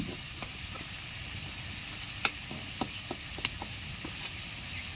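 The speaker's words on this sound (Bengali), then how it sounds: "মশলাটা ভালো করে কষিয়ে নেব।" Spices frying for jackfruit biryani give a steady soft sizzle and hiss, close by, with scattered small pops and stirring clicks and no talking.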